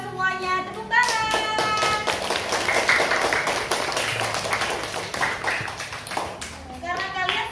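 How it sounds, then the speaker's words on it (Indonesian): Children clap together in a classroom, a burst of rapid, dense applause between stretches of adult and child speech, fairly close and loud. "Kita kasih applause dulu buat anak-anak hebat semuanya. Tepuk tangan."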